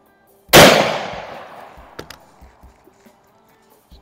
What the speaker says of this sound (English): I'm gonna shoot at the target on the lower left.